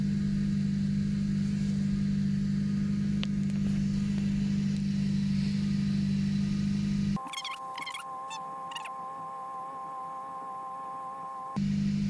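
A Ford Powershift 6DCT450 dual-clutch gearbox cycles through its gears during an adaptation routine in a parked car, heard as a steady engine hum that drops away mid-way, with whirring electronic tones, before the drone returns.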